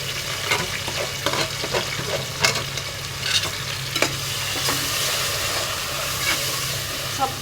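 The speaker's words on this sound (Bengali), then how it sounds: "মুরগগুলোকে আমি ভালো করে বেজে নিচ্ছি" Chicken frying in a pan with ground nut, ginger, garlic, nutmeg, mace and yogurt pastes for morog polao, a continuous loud sizzle broken by repeated spatula stirs and scrapes, close and with no talking.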